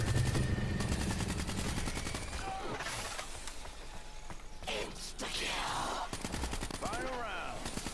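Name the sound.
gunfire in Call of Duty Black Ops 3 Zombies video game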